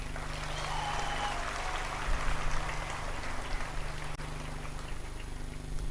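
Steady crowd applause at a commencement ceremony, a continuous dense patter of clapping from a large audience, heard at a distance through a hall with a constant low hum underneath.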